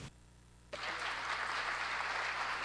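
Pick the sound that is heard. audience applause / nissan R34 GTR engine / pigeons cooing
audience applause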